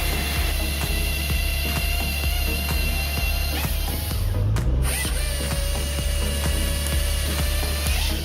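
A Halverson firewood processor cutting and splitting firewood, a loud continuous mechanical drone with rapid rhythmic clatter, a brief rising whine midway and sharp cracking impacts, steady throughout.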